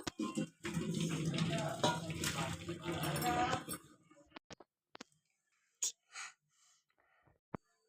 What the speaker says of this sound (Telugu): స్ట్రైనర్ కానీ పెట్టుకొని వాటర్ అంతా కూడా వంపేసుకోవాలండి